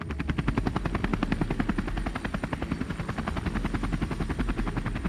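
A helicopter flies footballers to a stadium in Malaysia, its rotor blades chopping in a fast, steady, loud thumping rhythm close by, with a continuous engine whine underneath.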